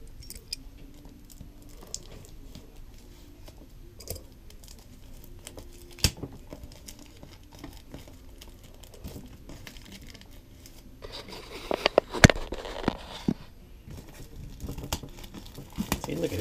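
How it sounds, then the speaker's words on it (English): Plastic shrink wrap being torn and pulled off a Red Dead Redemption 2 collector's edition box, with soft handling rustles that turn into louder crinkling and ripping near the end. A voice talks now and then. "let me fight with it to get this piece of plastic off it"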